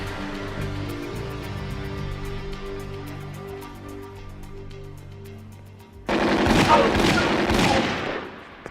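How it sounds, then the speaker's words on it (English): Gunfire from a TV drama scene: after a stretch of low droning background, a loud burst of several close, sharp gunshots erupts and continues rapidly to the end, with no talk over it. "Nice shooting."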